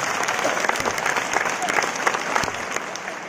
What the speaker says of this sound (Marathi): हात वर करून टाळ्या वाजवा तुमच्यासाठी